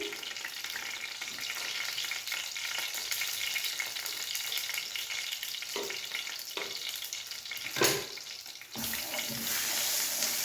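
Steady sizzling of a dal tadka tempering with turmeric frying in a hot pan, with occasional scraping stirs and a brief clatter partway through; no one speaks.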